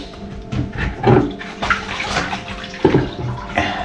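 Diluted PVA primer mixed with water is poured onto a bathroom floor during tiling prep, giving a close, sloshing liquid splash in uneven bursts with no voices.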